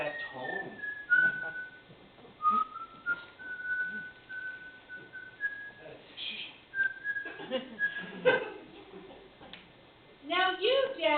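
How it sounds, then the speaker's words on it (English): A seven-year-old child whistles a wavering tune in short phrases, fairly faint and close, with speech from others breaking in between and over the notes. "Listen to that kid whistle."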